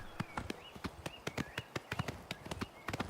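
A bay horse gallops in the video game Oblivion Remastered, its hooves striking in a brisk, regular clip-clop of crisp, close thuds that carries on for several seconds without speech.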